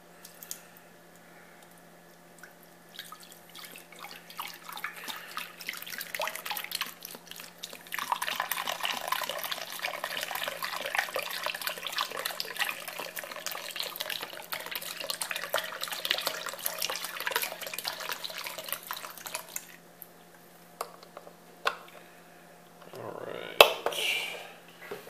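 A 32-ounce box of beef broth poured over beef in a crock pot, a continuous close liquid glugging and splashing lasting over ten seconds, with soft handling noises before and after.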